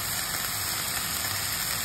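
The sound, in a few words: rain falling outside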